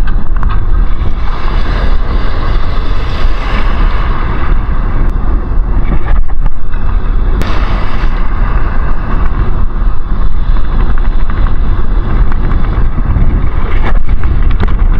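Strong wind buffets the microphone at sea while fishing from a boat, a loud continuous roaring rush with gusty bursts throughout.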